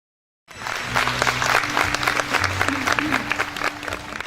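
Loud audience applause welcoming a couple on stage at a performance, bursting in after silence and holding as dense clapping, with a low voice and hum underneath.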